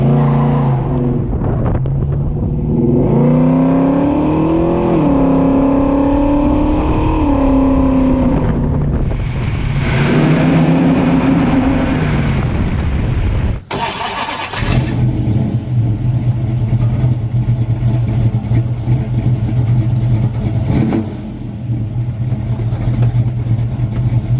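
The engine of a 1972 Dodge Dart Swinger muscle car rumbles and revs up and down with deep, throaty swells. It cuts off abruptly midway, then settles back into a steady, loud low idle that stays close and continuous.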